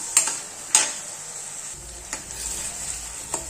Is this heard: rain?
no